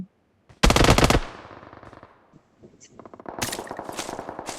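Rapid machine-gun bursts from a newly picked-up gun in a shooting video game, one loud close burst followed by quieter rattling fire and then a sustained stream of shots.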